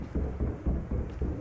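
Footsteps from a character below the player in the video game Fortnite come as a quick series of about six dull, heavily muffled low thumps, evenly spaced and fairly soft, with no talking.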